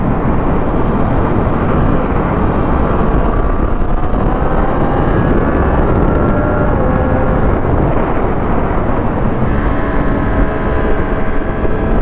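A 2023 Triumph Street RS 765 motorcycle accelerates with a loud, constant engine roar under heavy wind rush, its pitch rising in several sweeps as it revs through the gears.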